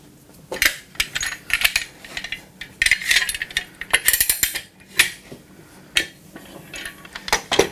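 Metal clamps are tightened on a glued wood joint for an electric guitar build, giving a run of close, irregular clinking, rattling and ratcheting clicks with short pauses.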